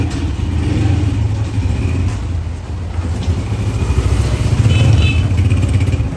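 A repaired motorcycle, just fixed after an accident, runs loud and close as it sets off for a test drive, its engine rumbling steadily with slight revving and no talk over it.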